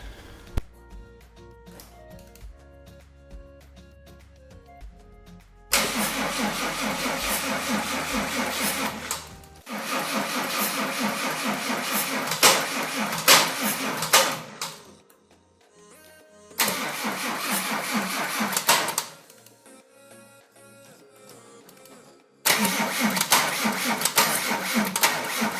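Mercedes W124 with an OM606 turbo diesel engine cranking and trying to start: a quiet stretch, then loud, dense churning bursts that cut off and resume several times, close and alone.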